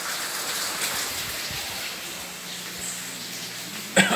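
Rain falls steadily outdoors while a parrot bathes in it, a soft continuous patter with a few scattered drops, ending in a brief louder splash or rustle near the end.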